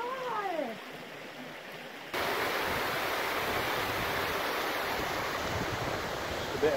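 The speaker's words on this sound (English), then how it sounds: "Just a bit of water." A small stream flows with a steady, broad rush that starts suddenly and stays fairly loud and close. A brief cat-like cry comes at the very start, and there is no speech.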